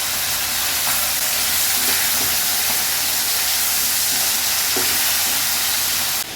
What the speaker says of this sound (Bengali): মা মাছ ভেজে ফেলছে